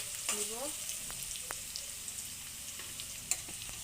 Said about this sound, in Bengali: পাঁচটার মতো এলাচ দিলাম, আর তেজপাতা দিয়েছি। একটু ভেজে নিব।